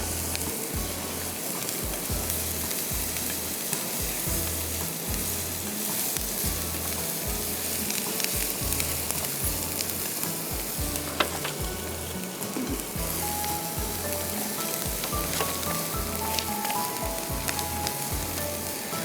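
Chopped garlic sizzling in a hot pan, a dense, steady frying hiss lasting throughout with a faint regular low throb beneath and occasional light clicks, close and without voices.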